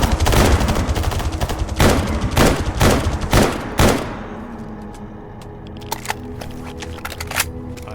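Rapid bursts of gunfire aimed at mutant boar in the S.T.A.L.K.E.R. G.A.M.M.A. shooter game, loud close cracks in a quick run, then a lull broken by a couple of fainter single shots.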